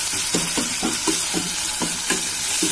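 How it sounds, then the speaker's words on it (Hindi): Chilli paneer being stirred in a hot pan, a steady sizzle with repeated scraping strokes of the spoon at a regular, quick rhythm, close and fairly loud. "अच्छे से मिक्स कर लें इसे"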